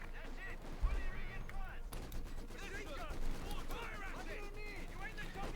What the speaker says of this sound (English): Adding light machine gun.